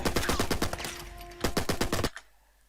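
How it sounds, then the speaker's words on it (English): Rapid bursts of enemy automatic gunfire crack out in a Drake shootout in Uncharted 4, loud and closely spaced, then cutting off abruptly into near silence. "So that guy in the background is shooting at Drake and is taking some damage."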